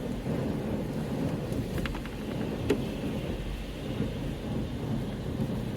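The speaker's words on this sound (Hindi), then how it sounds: "आप बारिश काफ़ी हो रही है इस वक्त" Heavy rain pours steadily outside a large distribution center, a dense continuous hiss with a brief low rumble partway through.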